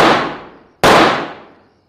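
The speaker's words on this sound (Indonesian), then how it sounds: "perampok A pun tak segan-segan langsung menembak sang ibu dan anaknya di tempat" Two loud gunshots from a movie, each a sharp broadband crack with a long reverberant decay that fades out, the second about a second after the first, with no talk over them.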